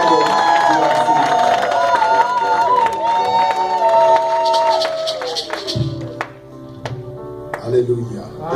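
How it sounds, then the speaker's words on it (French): A church congregation cheers and claps for a visiting pastor from Congo, DRC. Loud, sustained voiced shouts and cries fill the first half, then fade into a few sharp, scattered claps and murmuring voices. "You clapped for the pastor."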